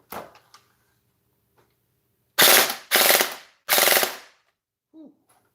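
Toy blaster with a newly repaired pinion firing three loud, rapid mechanical bursts in quick succession, harsh rattling whirs up close, with a few faint clicks before and after.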